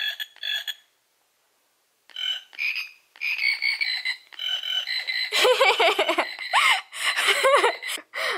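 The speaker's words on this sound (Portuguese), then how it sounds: "olha esse sapinho, que coisa mais fofa. Ele faz um, ele faz a zoada do sapo." A toy frog in a baby's room gives a run of croaking calls, with short bursts early on and then a louder, denser stretch of croaks in the second half, heard up close.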